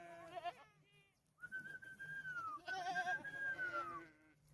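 Goats on a farm where goats and sheep graze bleat several times nearby, with long wavering cries that overlap one another over faint background noise.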